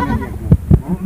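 Short, low bleats from a young Beetal goat on a goat farm in Pakistan, two quick close calls about a fifth of a second apart over faint background noise.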